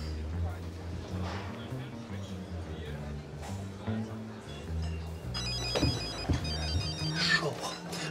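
A mobile phone rings in a restaurant scene, a bright repeating electronic ringtone that starts partway through and sounds close, while people talk underneath.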